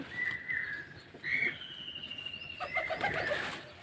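Pigeons coo softly nearby in a few short bursts, with faint rustling in between.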